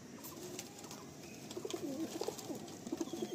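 Pigeons in a loft give low, throaty coos in short repeated bursts, growing more frequent toward the end, fairly close and quiet over a light background hiss.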